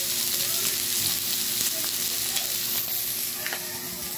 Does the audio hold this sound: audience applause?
no